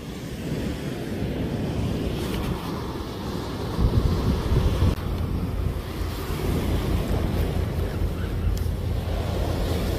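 Ocean waves break against the rocks of a lighthouse islet at Oryukdo off Busan, a continuous roaring wash of surf with gusty wind buffeting the microphone and a heavier surge near the middle.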